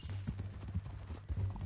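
A horse's hooves clip-clop in a steady walking rhythm in the video game Red Dead Redemption 2, fairly soft and close, with a low ambient hum underneath.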